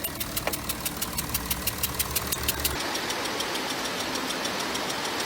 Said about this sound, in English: The symptoms of leaking injector washers are regular louder or not that loud hissing type noises from the engine